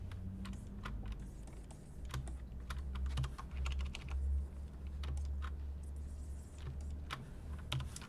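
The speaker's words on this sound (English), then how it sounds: "I have this like little keyboard that I use for gaming and stuff" Rapid clicky keystrokes tapped on a small gaming hotkey keyboard, irregular bursts of close, crisp presses with a low hum beneath, no voices.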